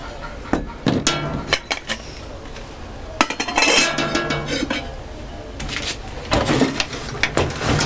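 Old cutlery from before stainless steel, kept in a rammed-earth house museum, clinks and rattles as it is handled: bursts of sharp metallic chinks and scraping, close and fairly loud, separated by short pauses.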